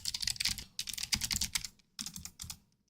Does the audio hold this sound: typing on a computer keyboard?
yes